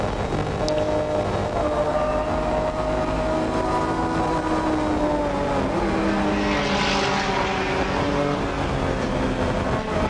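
A racing car at the 1981 Bathurst 1000 eases off the throttle into a left-hand dip, its engine drone dipping slightly in pitch, heard at steady volume with constant track noise.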